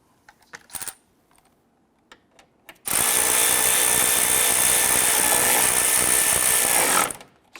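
Power tool driving the two lower grille assembly bolts on a Jeep Grand Cherokee (2011-2021), a few faint clicks, then a steady, loud, close whir for about four seconds before stopping.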